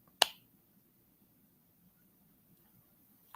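A single sharp finger snap rings out near and clear, used in place of applause, then near silence with only a faint low hum follows.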